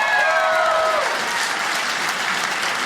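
Applause from a stand-up comedy audience answering a show-of-hands poll, sustained clapping and crowd noise that stays loud, while a fading tonal sound drops away early on.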